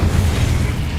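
A burst of the Incendio fire spell in the video game Hogwarts Legacy, heard as a loud, dense whooshing boom that stays full and roaring for the whole short moment.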